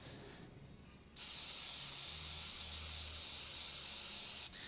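Aerosol spray hisses steadily onto a car headrest in a few close bursts, a short pause breaking the flow before it continues, with no talking.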